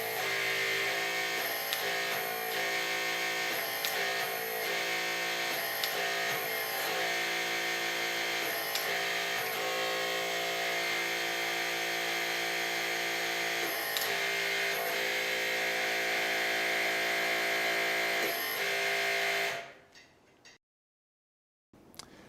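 A HYTORC MXT Plus torque tool run from a Vector pendant buzzes loudly and steadily for about twenty seconds, its high whine punctuated by brief rhythmic clicks, before cutting off abruptly to near silence.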